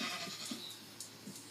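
Faint, distant sheep bleat in short wavering calls over a steady background hum, with no speech.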